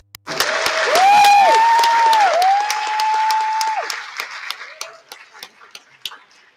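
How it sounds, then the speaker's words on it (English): Audience at a Vincent Chin 40th remembrance event celebrating Asian American arts breaks into a loud, sustained round of applause for the performers, with high whistles rising over the clapping before it thins out and fades toward the end. "I think they deserve another round of applause"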